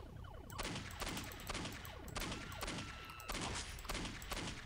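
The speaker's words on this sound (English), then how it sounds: "Someone's shooting at me." Rapid gunfire in Postal 2, several loud bursts of repeated shots crackling in quick succession with short gaps between them, close and sharp.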